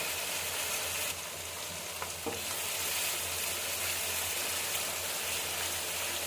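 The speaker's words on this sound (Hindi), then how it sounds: "मसाले को 2 से 3 मिनट भूनना है।" Spices and crushed red chili frying in a pot of oil while being stirred, a soft continuous sizzle with a couple of scraping stirs early on, close but fairly quiet.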